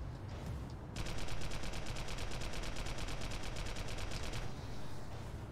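Rapid automatic gunfire from the online shooter Global Agenda: one loud, tightly spaced burst of shots lasting about three and a half seconds over a constant noisy game background.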